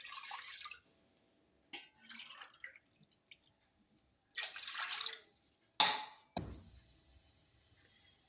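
Water is poured into a pan for carrot kesari in several separate splashy bursts with short silences between, close and moderately loud, ending in a sharper splash and a brief low thud.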